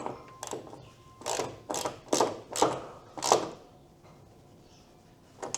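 A wrench is worked on a car shifter mount, producing several separate ratcheting clicks and metallic knocks spaced about half a second apart, close and moderately loud, with no speech.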